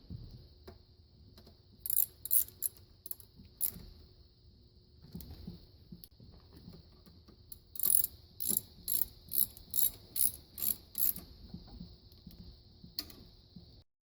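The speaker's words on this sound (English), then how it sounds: "We're going to go ahead and tighten that 12mm bolt over there and the 10mm nut." On a Subaru H6 alternator job, a hand ratchet tightens a 12mm bolt and a 10mm nut on the belt bracket, giving quiet bursts of rapid clicking in two separate runs with soft handling noises between.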